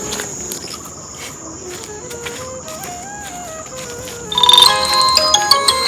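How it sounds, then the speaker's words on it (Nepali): A phone ringtone plays a rising melodic tune over a steady insect-like chirp, growing louder and busier near the end, with no talk. "कसको फोन आयो?"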